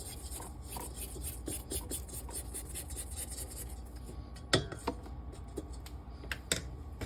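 Sides of a mixing bowl of cinnamon roll dough being scraped down with a spatula, with repeated soft scraping and rubbing strokes and a few sharper knocks, close and fairly quiet.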